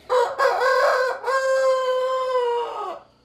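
A rooster crows loudly and close by with a long rising-and-falling call, and free-range chickens cluck at the start, on a farm in Goiás.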